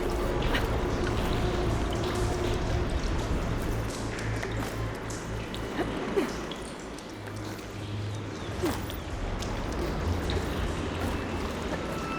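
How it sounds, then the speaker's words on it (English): Water runs through pipes in a room in Horizon Forbidden West, a continuous gurgling, trickling flow with low rumble and occasional light taps and clinks, steady and moderately loud. "Aloy, I can hear water in the room again"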